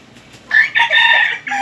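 A rooster crows loudly and close by, one drawn-out call broken into a few bursts, with a faint quiet background.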